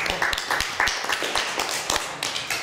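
A small audience at a political meeting on Scots in the Spanish Civil War claps briefly, with distinct individual hand claps standing out in a loose, uneven rhythm, fairly close.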